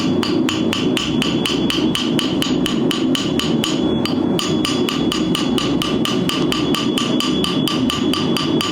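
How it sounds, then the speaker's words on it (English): Fast, regular metallic strikes of a small hammer on an old steel file, ringing sharply and evenly, about four blows a second, close and loud. "so now I've moved down to a smaller hammer"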